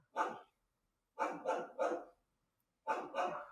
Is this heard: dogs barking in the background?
yes